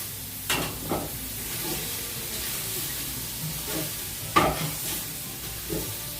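Bacon and chorizo fry in a hot pan with a steady hissing sizzle, punctuated by a few brief louder crackles and scrapes, heard close with no talking.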